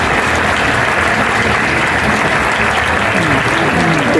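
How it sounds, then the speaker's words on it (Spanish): Studio audience on a Spanish television program breaking into loud, sustained applause, a thick continuous roar of clapping with faint crowd voices beneath. "Fuerte aplauso para ellos"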